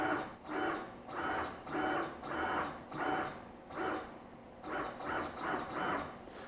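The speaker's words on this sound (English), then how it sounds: "Now let's move the Z-axis with the new motor." A CNC router's Z-axis, driven by a newly fitted motor, whirs through a steady run of short repeated moves, each a rising and falling mechanical buzz about half a second long, close and alone with no talking.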